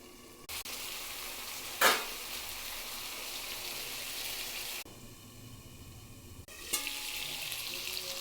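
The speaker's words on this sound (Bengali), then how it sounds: "নামানোর আগে একটু ঘি দিয়ে দিলাম, আবার একটু নাড়িয়ে দিলাম।" Food frying in a pan with ghee while being stirred, a steady close sizzle broken by a few sharp scraping stirs and brief pauses, with no talking.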